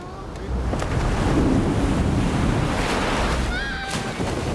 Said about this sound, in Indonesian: Tiba-tiba ombak yang besar menghantam.